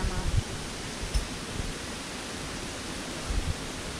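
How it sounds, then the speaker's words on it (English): Water flows steadily in an outdoor stream, making a continuous broadband rush with a few low knocks and bumps near the start and end. "That's the water."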